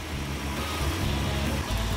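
A 1964 Corvette engine idles steadily with a low, even rumble throughout the short stretch, close by and with no voices.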